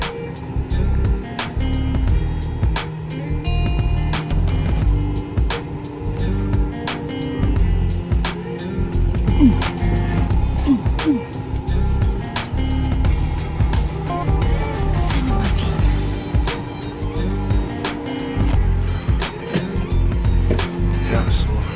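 Car engine rumbling and clanking while driving aboard a small vehicle ferry bound for an island, a steady low drone with metallic knocks and rattles throughout, nearby wind and water noise mixed in.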